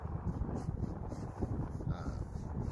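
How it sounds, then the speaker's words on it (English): Steady headwind buffeting the microphone on an open disc golf course, a continuous low rumbling roar with gusty swells and no speech. "I was faced with a headwind here"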